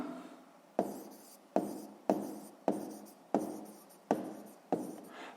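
A pen writes on paper in a series of about seven short strokes, each starting with a crisp scratch and fading quickly, evenly spaced and close in a quiet room.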